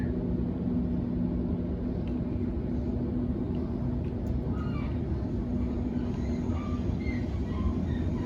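A Sydney Trains Waratah electric passenger train rumbles steadily from inside a carriage, with a low constant drone, faint rattling and an occasional thin squeal from the wheels.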